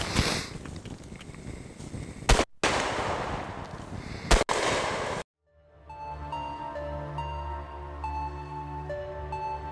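A shotgun fires outdoors on a frozen winter range at minus 22 degrees, two loud, sharp blasts about two seconds apart over a noisy windy background, after which music takes over.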